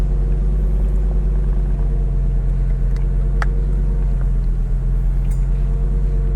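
Lamborghini Gallardo V10 engine heard from inside the car on a drive with the windows down, a loud steady low drone of engine and road rumble with a faint tick or two over it.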